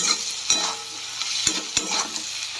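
Torn bread pieces frying in a pan with salt, turmeric, chili powder and sambar masala make a steady sizzle punctuated by three sharp spatula knocks, with no talking.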